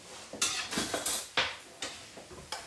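A spoon stirs condensed milk and tea cream together for buko pandan, giving irregular close clinks and scrapes against the bowl, with no talking.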